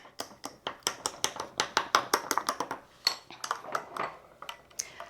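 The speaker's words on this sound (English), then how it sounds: "after some pretty vigorous stirring, once I stop stirring, it kind of gets a bit chunky" Spoon clinking rapidly against a cup while vigorously stirring a Premier Protein shake, a fast, even run of close metallic taps that slows and turns irregular toward the end, with no talk.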